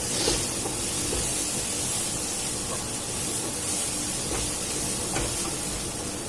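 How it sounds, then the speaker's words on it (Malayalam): Water coming to a boil in a cooking pot makes a steady, fairly quiet hiss and bubbling rush, with occasional light clinks and no talking. "അത് വെള്ളം തിളച്ചു വരുന്നുണ്ട്"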